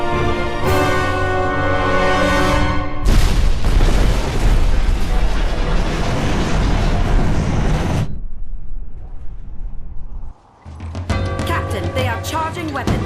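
Heavy rumbling explosions and booming impacts as a ship rams a Covenant vessel in the Halo Wars video game, loud and sustained for several seconds, then a brief drop before a tonal musical swell returns.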